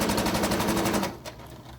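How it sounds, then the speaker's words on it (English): A sewing machine stitches the pieces of a fabric plastic bag holder with a rapid, steady mechanical rattle for about a second, then stops, leaving a brief faint click in quiet. "I'm gonna make sure I hold these together so they don't shift as I sew."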